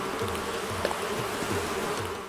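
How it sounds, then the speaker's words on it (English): Bees buzz in Animal Crossing: New Horizons, a steady droning hum with a pulsing, wavering tone that persists close and uninterrupted throughout, with no talking over it. "That was nice of those bees to wait."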